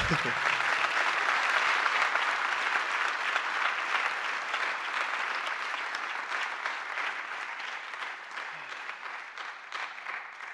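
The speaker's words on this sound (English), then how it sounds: "can we get everyone applause for that?" Sustained applause from a large audience at an academic convocation, steady and dense throughout and slowly tapering toward the end, with a few voices faintly audible underneath.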